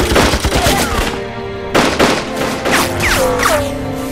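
Loud gunfire in a war film set during the anti-Japanese war, with dense overlapping rifle and machine-gun bursts, booms and ricochet whines that continue without a break.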